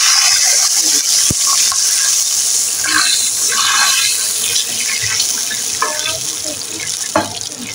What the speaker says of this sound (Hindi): अब हम इसके अंदर पानी ऐड कर देंगे